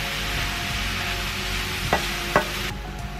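Food fries with a steady sizzle in a frying pan as it is mixed, with a couple of sharp spoon knocks against the pan near the end.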